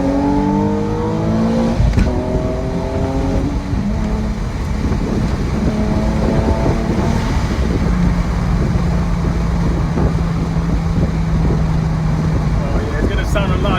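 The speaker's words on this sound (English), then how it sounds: "it's gonna sound a lot deeper with these test pipes on, that's for sure" Nissan 370Z Nismo engine fitted with test pipes revving hard from inside the car, loud rising and falling tones through gear changes with a deep exhaust drone, while people talk over it.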